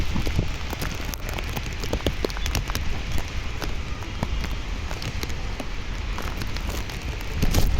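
Steady rain pouring down outdoors, a dense, even hiss of drops on surfaces with scattered sharper splats, close and continuous for the whole stretch.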